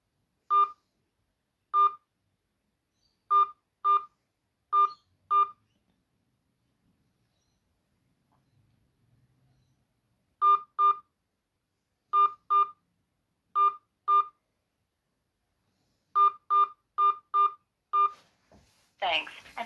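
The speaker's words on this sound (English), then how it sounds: "key in your card number followed by hash." Touch-tone DTMF keypad beeps as a card number is keyed in on a phone banking line, short evenly spaced tones in several quick bursts with pauses between, clear and alone.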